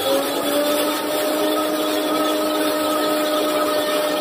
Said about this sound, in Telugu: మిక్సీ వేస్తున్నానమ్మా